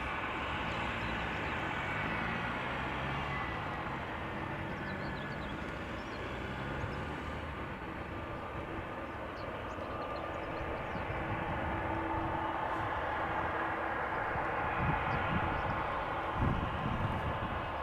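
Distant airliners at Amsterdam Schiphol Airport, including a United triple seven, a Delta A330, an Air Europa jet and a KLM jet, make a faint, steady roar that runs through the whole stretch with no talking.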